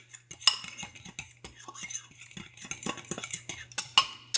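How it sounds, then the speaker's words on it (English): A utensil stirs casein protein powder into an ice cream mix, giving a series of light clinks and scrapes against the container in an uneven rhythm, close and fairly quiet, with a low steady hum underneath. "Just going to give that a little mix too."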